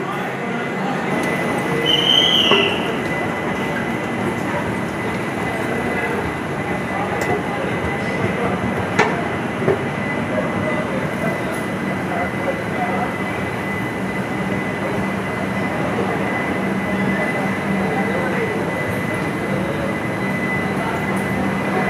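A train at Kalaburagi railway station gives a steady, continuous rumble and hiss throughout, with people talking over it.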